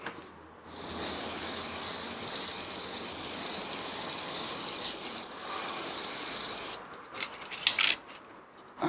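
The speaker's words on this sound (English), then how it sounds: "go over it with the layering spray." An aerosol can of layering spray hisses in one long continuous burst over a model tree, pauses briefly, sprays again, then ends with a few light clicks and handling noises.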